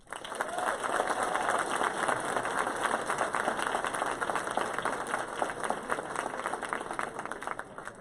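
An audience at an entrepreneur pitch competition claps steadily and loudly for about eight seconds, a dense, sustained round of applause with no break.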